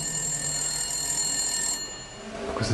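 Telephone bell ringing beside two original 1976 Schlieren elevators with automatic doors, a sustained metallic electric ring that cuts off near the end, followed by a brief shuffling sound.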